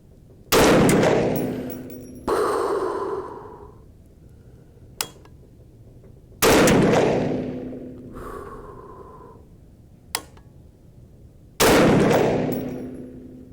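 Rifle shots from a 350 Legend fired at a scoped target crack out loud and close: three sharp blasts with decaying echoes, spaced several seconds apart, with a few faint clicks in between.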